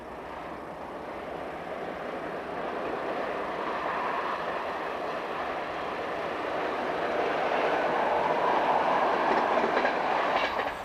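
An Italian Class 343 locomotive-hauled train runs along a coastal line past undulating hills, a continuous rolling rumble with faint rhythmic clatter that grows gradually louder toward the end.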